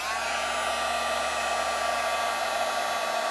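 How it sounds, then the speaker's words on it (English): Heat tool melting embossing powder on a stamped butterfly, giving a steady, even blowing whine that runs unbroken throughout, close and alone. "now we're going to hit that with the heat tool"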